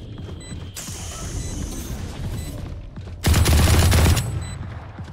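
Rapid automatic gunfire bursts loudly in the tactical shooter game Valorant, with a sustained fusillade near the end over the game's background hum and mechanical clicks.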